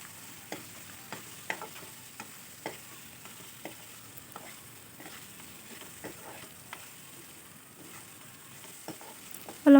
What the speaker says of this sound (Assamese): অলপ লৰাই ভাজি দিলোঁ।